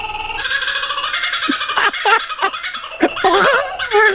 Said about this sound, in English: the most obnoxious call on the planet, and it's called a kookaburra